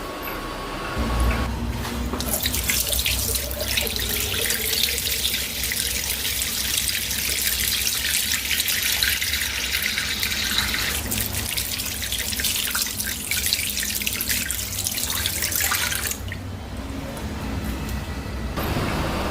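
Hands are washed under a running tap, a steady loud gush of water that holds for most of the stretch before cutting off, with no talk over it.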